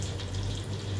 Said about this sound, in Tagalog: Niprito ko na yung prawns natin.